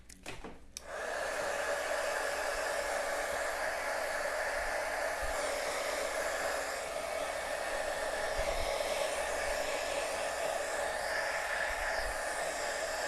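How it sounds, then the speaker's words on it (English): A heat gun switches on with a click and blows a steady, loud whooshing hum while it warms embossing on a handmade card, running unbroken with no talk. "Let's heat them up a little bit. If I can remember where my heat gun is."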